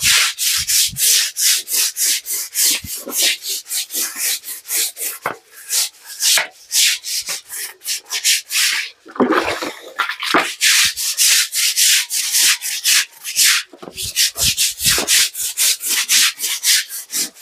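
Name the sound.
scrubbing dirt off with a brush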